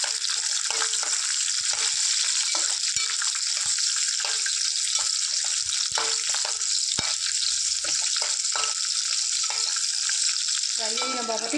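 Dried red chillies and green chillies fry in hot oil in a pan, a steady loud crackling sizzle running throughout with occasional clicks and small pops, close by and without speech.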